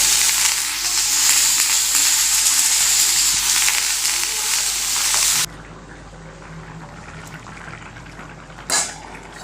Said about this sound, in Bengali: আর এইদিকে ভেন্ডি ভাজি করছি